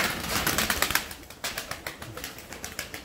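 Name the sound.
table pigeons flying, flapping wings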